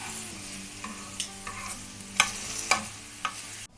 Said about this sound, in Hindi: ये देखिए सारे कतले मैंने तवे के ऊपर लगा दिए। अब मैं इनकी साइड चेंज करने लगी हूँ।